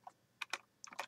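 Keys tapped on a computer keyboard while editing a Notepad script, a few separate clicks in two short bursts, close and fairly quiet, with no voice.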